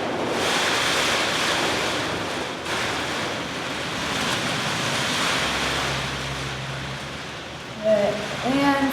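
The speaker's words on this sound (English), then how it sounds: "It's so windy and rainy." Steady, loud wind and rain roar outdoors during a storm, broadband and continuous throughout, with a brief voice near the end.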